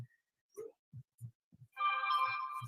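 A small phone plays a notification tone, a bright multi-toned chime lasting about a second near the end, after scattered low thumps and brief sounds.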